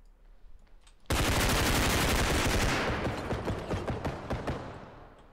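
Sustained automatic gunfire in the video game Bodycam bursts in after a quiet second, a loud rapid stream of shots that gradually thins into separate cracks near the end.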